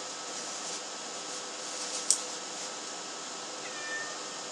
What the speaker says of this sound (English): that's my cat over meowing at me